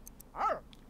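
A single short bark from Rufus, a pet dog in The Sims 3, rising and falling in under half a second, moderately close and alone over a soft ambient game background.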